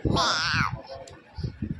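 A young child imitates a cat's meow with one short, rising-and-falling wail, followed by softer babbling sounds close by.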